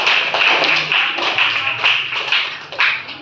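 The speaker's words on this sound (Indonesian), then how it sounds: "tepuk tangan untuk semua kelompok." Students in a classroom clap for all the groups: dense, fairly loud, steady hand clapping from many pupils lasting a few seconds, with no talking over it.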